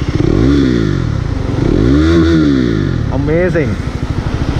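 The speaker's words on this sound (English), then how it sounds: "a slightly louder exhaust, but this sounds" A 2017 KTM Duke 390 motorcycle with a modified, louder exhaust revs up and down in rising and falling sweeps, close by, with a brief spoken word near the end.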